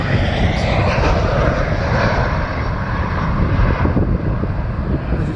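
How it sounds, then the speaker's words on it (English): A Southwest airliner landing on runway 30 at San Jose makes a loud, steady jet roar that fills the whole clip, with some wind buffeting the microphone. "a Southwestern landing on runway 30"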